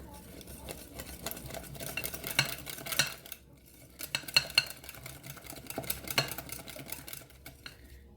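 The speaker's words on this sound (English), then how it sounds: "And then you take the two and you mix them together, the wet and the dry together. And then you stir that up." A spoon stirs wet and dry keto double chocolate chip muffin batter in a bowl, giving quiet scraping and tapping against the sides in irregular bursts with short pauses between them.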